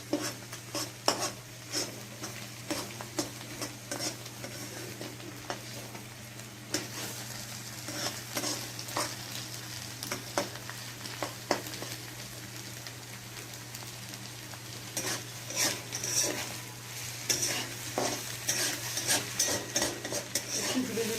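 Pasta fries in a pan with a faint, continuous sizzle. A utensil stirs it and clinks against the metal again and again, and no one speaks.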